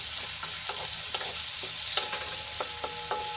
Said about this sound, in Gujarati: તો ડુંગળીને આપણે સરસ રીતે તેલમાં મિક્સ કરીને એને આપણે સોફ્ટ થવા દઈશું